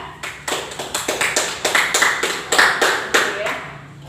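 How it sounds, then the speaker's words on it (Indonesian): A classroom of students claps for a presenting group in an Islamic cultural history lesson. The claps come close and loud in a fairly rhythmic, slightly uneven pattern for about four seconds. "beri tepuk tangan untuk kelompok 3"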